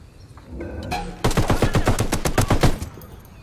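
Rapid bursts of automatic gunfire in Ghost Recon Wildlands, about ten loud close shots in a quick rhythmic string after a quieter lead-in, with no talk.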